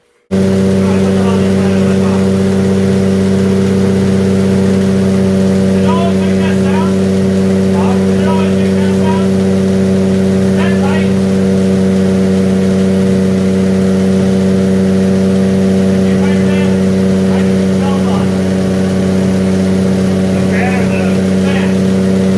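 A Toyota Supra engine idles with a steady, loud mid-pitched drone and a few revs, close by in a garage setting, with people talking over it.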